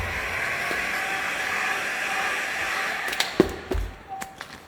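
A heat gun blows a steady hissing rush of hot air over vinyl wrap on a car bumper, close and even, ending in a few sharp crinkles and taps as the film is handled.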